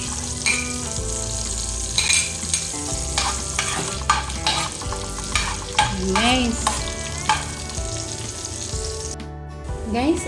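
Garlic sizzling in melted butter in a pan for garlic butter shrimp, a steady close frying hiss with occasional stirring scrapes throughout.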